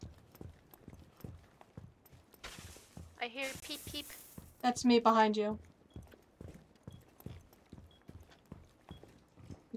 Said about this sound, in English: That horse scared the hell out of me.